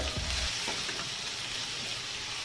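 Soaked sago is stirred into a pan of cashews, raisins and carrot over low gas, with a soft steady sizzle and a few light scraping stirs early on.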